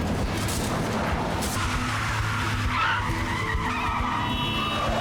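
In a scene from the film Mission Impossible 2, a car skids and goes off a cliff edge, with a loud, continuous tire screech and engine roar dense across the range and heavy low rumble throughout.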